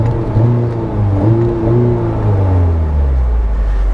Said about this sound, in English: let's go ahead and see what it sounds like revving up on the inside of the car